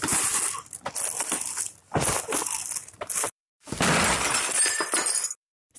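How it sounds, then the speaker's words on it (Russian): Glass breaks and shatters in several loud, crunching bursts separated by short gaps, with no talking. "Стекло разбилось, а выйти так и не получилось."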